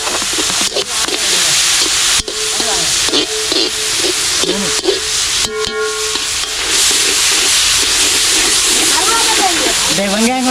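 Onions frying in a hot pan in a Sri Lankan Jaffna home kitchen: a steady, loud sizzling hiss runs throughout, with occasional stirring scrapes and clatter, under near continuous conversation.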